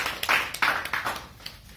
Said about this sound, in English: a round of applause to both our speakers.